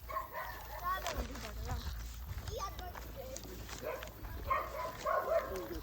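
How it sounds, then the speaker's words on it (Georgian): Dogs barking outdoors during a family outing to pick tkemali plums, several sharp barks spread across the scene beneath frequent talking and children's voices. "ბავშვებო ძაღლები."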